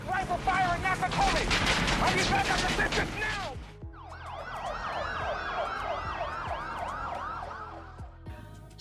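Loud wailing police car sirens, first a dense overlapping burst of several sirens, then a cleaner rising-and-falling wail that sweeps repeatedly for several seconds.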